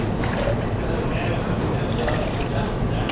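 Grapefruit juice pouring for a cocktail at a bar, a close, continuous liquid splash and trickle lasting a few seconds with faint background chatter.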